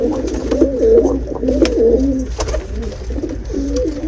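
Pigeons cooing close by, a series of soft, throaty warbling calls repeating over and over against a low background rumble.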